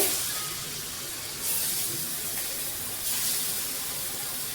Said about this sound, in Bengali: তো মাছটা ভাজা হতে থাক